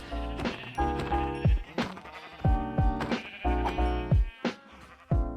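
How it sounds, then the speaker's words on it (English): Minecraft sheep bleat again and again in loud, close, wavering cries, some overlapping, on a hardcore amplified world, with short gaps between the calls. "I was just fed up of the sheep's screaming"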